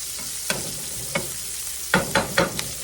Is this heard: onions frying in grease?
yes